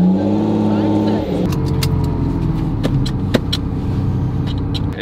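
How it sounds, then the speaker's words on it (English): A Lamborghini Diablo engine idles with a deep, steady rumble, loud and close, with a faint clinking of keys partway through while a person talks over it. "you can hear the similarities between the Diablo idling"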